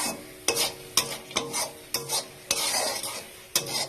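Ground bean paste fries with garlic paste, nigella seeds and dried chillies in a kadai, a quiet sizzle punctuated by regular sharp scrapes and knocks of a spatula stirring against the pan.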